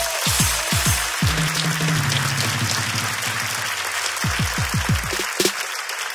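Applause from a live comedy podcast audience, a broad wash of clapping with cheers running beneath several bursts of rhythmic low pulses and a tonal hum, the clapping continuing steadily throughout.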